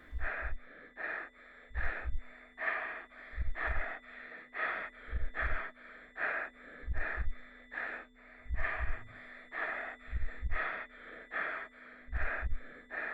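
Rapid, panicked breathing in repeated gasping bursts, close and steady, with short low thumps like knocking recurring between breaths; no speech.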